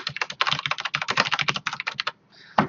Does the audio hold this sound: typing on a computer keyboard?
yes